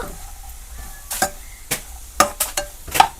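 A spoon scrapes and stirs food in a pan on the stove, a few sharp scraping strokes over a soft, low sizzle, close and fairly loud, with no talking.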